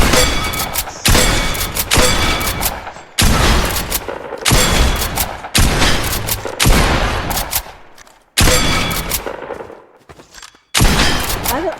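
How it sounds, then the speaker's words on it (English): Shotgun blasts in the video game Fortnite Battle Royale, about eight loud close booms fired at a steady pace roughly every second and a half, each with a short decaying tail. "Let's do some shotgun."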